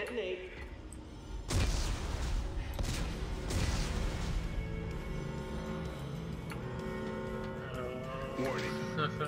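Explosives detonating in the video game Dead Space 3: a loud blast followed by a few more booms and rumbling debris, with talking over the aftermath.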